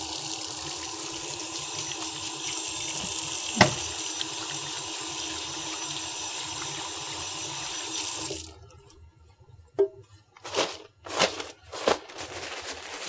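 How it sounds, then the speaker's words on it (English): Hands washed under a running sink tap before a medical examination: a steady broadband rush of water for about eight seconds, then the flow stops and a few short splashes and handling sounds follow. "Before we begin the examination, I'm just going to wash my hands, okay?"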